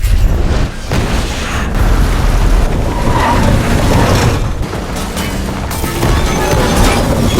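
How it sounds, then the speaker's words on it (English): A nuclear bomb detonates in a film scene, heard as a loud, sustained roaring rumble with booming, crashing bursts that fills the whole stretch without letup. "Behind them, the nuke finally detonates."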